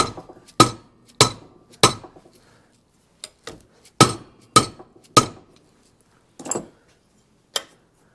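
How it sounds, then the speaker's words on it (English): Sharp metallic hammer strikes ring out one at a time with short pauses, about a dozen taps, close and fairly loud, as metal on a square-body truck is hammered back flat. "I just gotta hammer this back flat a little"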